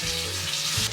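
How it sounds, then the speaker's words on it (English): A stuffed boneless whole chicken searing in a hot pan, a brief, steady, close sizzle with no voices. "So now it's time to sear it up."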